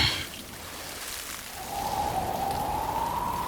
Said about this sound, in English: It began pouring in the jungle.